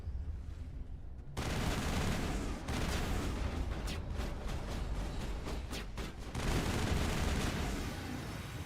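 Heavy gunfire in the video game Mass Effect, bursting in loudly after a short quieter stretch, then sustained dense rattling shots with rapid volleys and booms, no voices over it.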